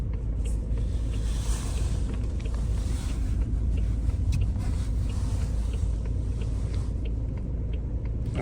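A car's engine and road rumble drone steadily from inside the vehicle as it drives up to a sorting station, a loud, even noise with some wind buffeting throughout.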